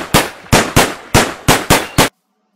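Guns firing in the Minecraft Crazy Craft mod, seven loud, sharp shots in a fairly even rapid rhythm, each with a short tail, ending abruptly in silence with no talk.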